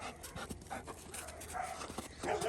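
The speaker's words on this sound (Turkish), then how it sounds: "Valla köpek bizim yandan akıllı." A dog pants steadily outdoors in snow, quick breathy rhythmic huffs close by, with faint background noise and no talk.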